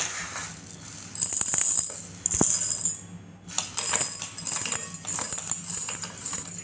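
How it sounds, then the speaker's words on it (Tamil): Roasted dry ingredients for an energy drink rattle and clatter as they are poured into a mixer jar, with sharp clicks and a steady granular rush, close and fairly loud. "அதை மிக்ஸி ஜாரில் போட்டுக்கலாம்."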